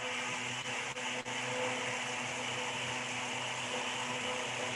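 A blender runs continuously, a steady, loud whirring drone with a few brief clicks early on and no talking over it.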